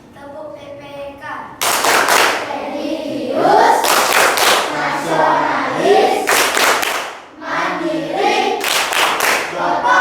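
Schoolchildren in a classroom perform the rhythmic Tepuk PPK clapping routine, bursts of loud, fast group claps alternating with chanted words spoken in unison.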